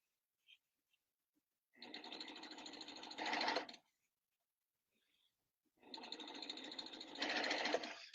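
A sewing machine fitted with a plain hemmer foot stitches a hem in two steady bursts of rapid whirring, each lasting about two seconds and separated by quiet, with a faint click before the first run.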